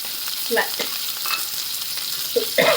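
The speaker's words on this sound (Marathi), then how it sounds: "उभा कांदा चिरून घेतला आता हे चांगलं फ्राय करून घ्यायचं" Sliced onion frying in hot oil with cumin, garlic and green chillies, a loud close sizzle broken by a few stirring scrapes and clanks near the start and end, no voices.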